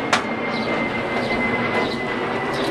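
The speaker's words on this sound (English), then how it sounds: "here comes an airplane" Airplane passing overhead as a steady broadband roar with a faint tonal hum, moderately distant and continuous throughout, heard outdoors in a backyard.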